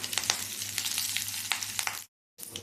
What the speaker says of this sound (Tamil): கடுகு நல்லா பொறிஞ்சு வந்தவுடனே